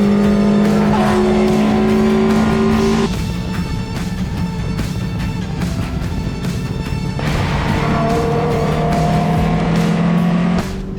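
A loud Toyota Yaris race car engine drones steadily at high revs on the Las Vegas Motor Speedway track, the pitch rising and dipping through gear changes, with tire and road noise underneath and no talking.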